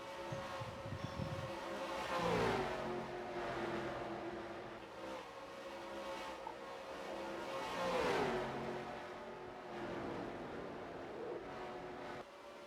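Race cars lap Darlington in a chicken run event, engines droning and swelling as cars pass by at a distance, two clear drive-bys with a steady engine hum between, fairly faint.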